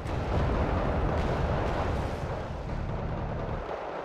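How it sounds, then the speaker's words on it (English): BMP-2 infantry fighting vehicles fire in the war strategy game Wargame: Red Dragon, producing a dense, loud rumble of overlapping booms that holds steady and eases slightly toward the end, with no talk. "Unfortunately, those BMP-2s are firing at me."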